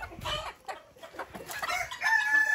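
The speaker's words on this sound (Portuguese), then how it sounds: "Olha só esse galo, pessoal." A Belgian Bearded (Belgin) rooster of the chamois variety crows loudly and close by outdoors, a long drawn-out call with other fowl clucking softly around it.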